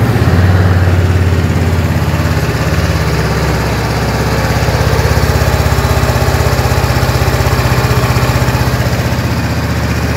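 A 2020 Honda CB500X PC64 motorcycle engine idles loudly and close, a steady low throbbing chug that holds evenly throughout with slight swells, no talking over it.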